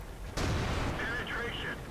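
An IS-3 heavy tank cannon in World of Tanks fires one sudden loud boom that rolls off into a short rumble, with faint game sounds trailing after.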